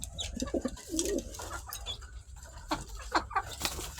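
Pigeons coo in soft, repeated throaty bursts close by, overlapping in an uneven rhythm against low background hum, with chickens nearby.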